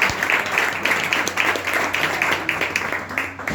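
An audience claps steadily at a literary afternoon in Berga, a dense, close patter of applause that continues evenly throughout before easing slightly at the end.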